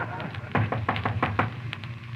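Knocking on a door in a 1935-36 Jack Benny radio comedy sketch, a run of about seven sharp raps in quick irregular rhythm, close and fairly loud, with a faint hum beneath.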